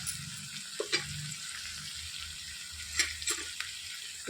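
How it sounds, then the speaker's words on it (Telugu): Ginger garlic paste frying in a pan gives a steady soft sizzle, broken by a few brief clinks and scrapes of stirring. "కొద్దిగా 1 స్పూను అల్లం వెల్లుల్లి పేస్ట్, పచ్చి వాసన పోయేంత వరకు వేయించేసుకోవాలి"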